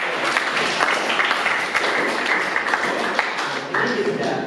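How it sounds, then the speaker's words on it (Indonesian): Classroom applause from students during an eighth-grade science lesson, a brief burst of quick clapping mixed with voices and chatter, fairly loud and close. "Terima kasih tepuk tangan untuk yang ini."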